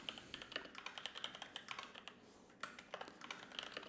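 Rapid typing on a computer keyboard while code is entered, a quick run of close, crisp key clicks with a brief pause midway, no voice.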